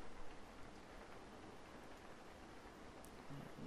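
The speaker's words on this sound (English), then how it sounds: "And you are back outside in the rain, the delightful rain." Rain falls outdoors as a soft, steady hiss, faint and even throughout, with no voices.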